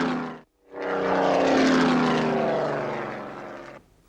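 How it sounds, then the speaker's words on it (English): Art Scholl's Chipmunk 2 stunt plane at the Oshkosh, Wisconsin Experimental Aircraft Show, its propeller engine roaring loud and steady after a brief gap, swelling as it passes close, then fading away. "that's his sensational stunt plane, the Chipmunk 2."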